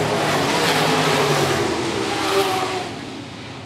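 IMCA modified race cars roar around a dirt oval at Phillips County Raceway, a loud blended engine drone that swells as cars pass, then fades away over the last second.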